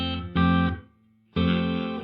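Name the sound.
Donner pedal room reverb with decay all the way down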